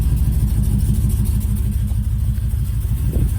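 An LS-powered Chevrolet Apache truck engine with troublesome fuel injectors idles steadily after its first start, a close, even low rumble with a smooth rhythmic pulse and no talking.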